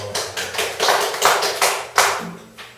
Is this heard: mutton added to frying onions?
no